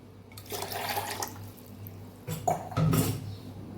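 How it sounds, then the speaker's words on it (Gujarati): Water splashes in short bursts into a mixer jar, about two glasses' worth, with a brief clink of the jar between pours. "આપણે બે ગ્લાસ જેટલું પાણી ઉમેરશું"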